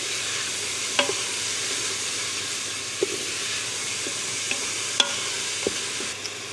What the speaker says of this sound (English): So I'm going to give that a good stir